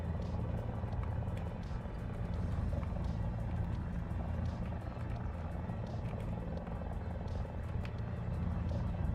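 Helicopter in the video game War Thunder, a steady rotor thump and engine drone at moderate, even level across the whole stretch, with faint talk in the background.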